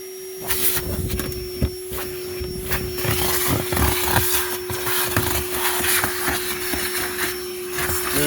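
A Ridgid HD0918 dual 18-volt cordless vacuum runs loud and close with a constant whine and steady motor hum, its pitch shifting slightly as debris rattles up the nozzle.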